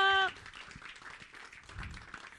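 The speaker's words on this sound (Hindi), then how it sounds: "Can we hear a huge round of applause for him, everyone?" Audience applause at a film trailer launch for 'Hunterrr', a steady crowd clapping after a brief sustained tone, moderately loud and continuous without voices.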